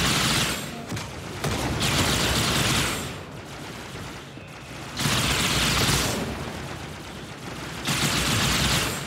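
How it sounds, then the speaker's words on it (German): Sustained bursts of enemy gunfire in Halo 2 Anniversary on PC, loud dense volleys of rapid shots in several waves with brief lulls between, no talk over them. "Und jetzt haben sie sogar angefangen zu schießen,"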